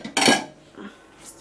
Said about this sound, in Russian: Разбираю тут посуду.